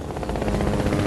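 A helicopter in the video game Fortnite, a steady dense rotor drone that sounds loud and close, filling the whole short moment without any break.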